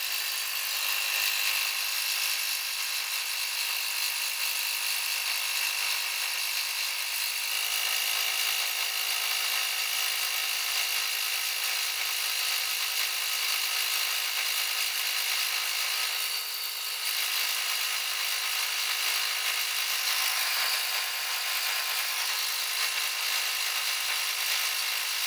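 A BAUER 20V/12V HYPERMAX lithium-ion cordless 160 PSI tire inflator running, a continuous steady high-pitched motor whine and buzz with no pauses, loud and close.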